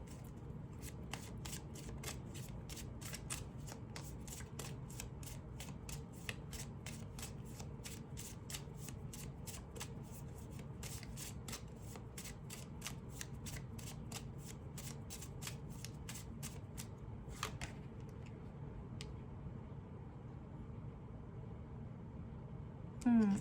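Tarot cards are shuffled continuously close by, a steady rapid riffling and flicking of card stock that runs without a break for over twenty seconds with no talk over it.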